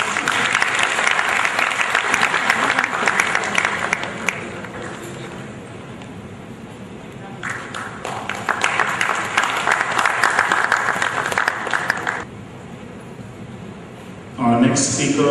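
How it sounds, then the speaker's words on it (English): Audience applause in a crowd at a humorous speech contest, broad and sustained for several seconds, fading briefly and then swelling again before dying out. "And I think that deserves a round of applause."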